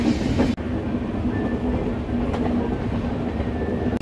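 The Antyodaya Superfast Express rolling out of Chennai on the Vijayawada run gives a continuous close rumble with a low steady hum, faint rail clatter, and a brief dip near the start.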